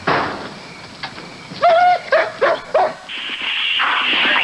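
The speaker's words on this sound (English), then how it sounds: "I hear dogs." Police search dogs bark in several short, loud bursts at mid distance, with a dog handler's urging calls earlier, followed by a steadier noisy background.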